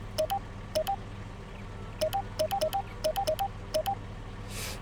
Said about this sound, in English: I wonder if I can turn that beeping off, because that's really annoying